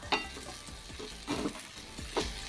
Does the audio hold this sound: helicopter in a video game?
no